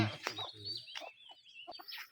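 Turkey on a rural farmyard in a Philippine province gobbles in short warbling bursts, fairly close, among other fowl and goats, with someone talking briefly around it.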